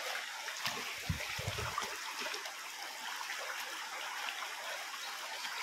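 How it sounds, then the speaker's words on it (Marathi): Small stream flowing toward a nearby river in the Konkan countryside, a steady faint trickling rush heard alone, with a brief low bump near the start. "हा ओढा आता इथे खाली समोर नदीला मिळतो,"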